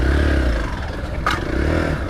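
Hero Xpulse 200 4V's aluminium bash plate catching the ground, a single brief scrape jolting through steady close engine rumble and ride noise on a city street.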